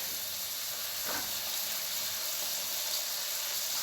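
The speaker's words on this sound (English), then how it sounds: "we're getting a nice, lovely sear on the top" Steady, even sizzling of pork shoulder blade steak searing in a hot pan, a constant close hiss that holds its level throughout without any voices.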